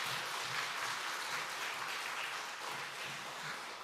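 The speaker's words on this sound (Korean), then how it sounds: "박수 해주세요." A church congregation applauds during a Sunday afternoon service, steady many-handed clapping at moderate level, continuous and even throughout.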